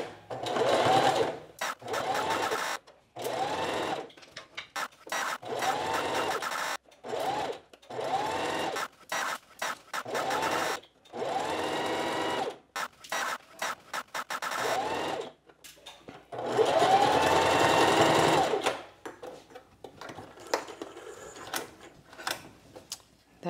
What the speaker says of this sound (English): I'm back to my regular presser foot, half an inch from the front, from the edge, and I'm going to sew.